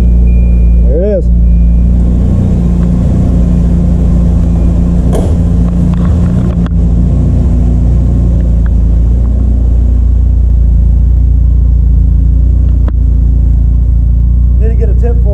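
Volvo car idling with a new muffler, a deep low bass exhaust rumble droning continuously and loud close to the microphone, with a few faint knocks and a brief voice near the start.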